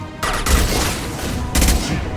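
Sustained gunfire from the sci-fi shooter game Mass Effect 2, a loud, dense burst of shots with heavy booming impacts at the start and again near the end, continuing without pause.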